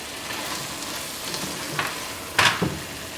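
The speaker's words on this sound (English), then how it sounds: "now I'm going to add the fried onion and okra back into the pot" Fried onion and okra tipped back into a pot for bhindi masala, with a soft steady sizzle and a couple of sharp scraping, clattering stirs near the end.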